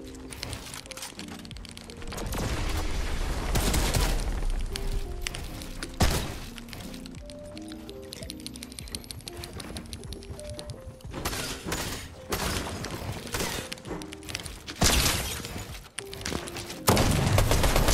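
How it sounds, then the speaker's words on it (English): Shotgun blasts and other gunfire ring out in Fortnite, sharp loud bursts scattered among steady game music and effects, with a few crackling impacts and breaking sounds along the way. "Yo, how did I not kill him with a shotgun?"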